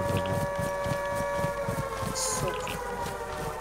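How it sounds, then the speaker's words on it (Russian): A siren wails steadily through a loudspeaker in the video game Stalker, holding a sustained droning tone with a rhythmic low pulsing underneath and a brief bright burst partway through. "Это кто-то в громкоговоритель въебал сирену."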